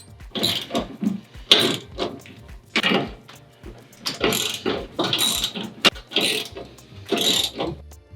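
A hand ratchet tightens nuts on a UTV snow plow mount, with repeated bursts of clicking pawl strokes in an irregular rhythm, close and clear with no speech.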